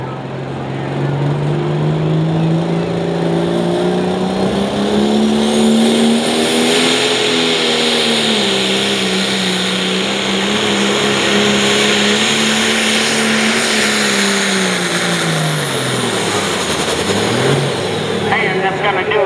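A pulling tractor at the OSTPA Truck & Tractor Pull in Coshocton, Ohio, 2023, roars loud and close, its engine pitch climbing and falling through a long sustained run before dropping off near the end.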